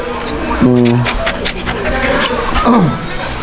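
A dog pants and lets out a couple of high, sliding whines amid a noisy background with people talking nearby.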